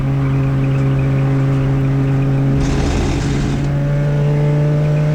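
A CityCar Cup race car at Silverstone, its engine droning loud and steady from inside the car, with a burst of nearby engine noise from another car passing mid-clip.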